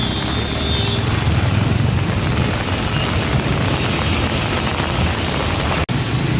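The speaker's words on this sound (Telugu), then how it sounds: "ఈరోజు ఆగస్టు పదిహేనో తారీఖు వర్షం అయితే ఈ రేంజ్లో ఉంది" Heavy rain pours down in Secunderabad, Hyderabad, on 15 August, a dense, unbroken hiss and roar that stays loud and steady throughout.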